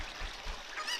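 A Cucco chicken from Zelda: Ocarina of Time gives a brief squawking honk in game audio, a single short cry over a faint wash of background sound.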